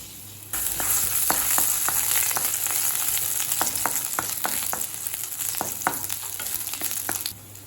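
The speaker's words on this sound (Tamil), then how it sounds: "கடாயில் கொஞ்சம் எண்ணெய், பொடியாக நறுக்குன்னு 4 பல் பூண்டு சேர்த்துக்கலாம்." Steady, loud sizzling of chopped garlic frying in hot oil in a kadai, with light scraping taps of a spatula stirring through the pan.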